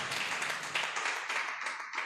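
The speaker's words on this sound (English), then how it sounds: "A round of applause as the doctor walks back" Audience applause at a legal profession public engagement event, a steady, dense wash of many hands clapping that holds evenly for about two seconds and rises slightly at the very end.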